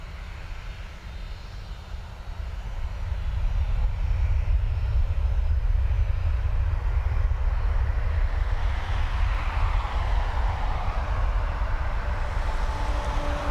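An airliner bound for Paris departs Dublin Airport, its engine roar swelling from a low rumble to a loud, sustained broadband thunder that holds steady, heard from a distance without speech.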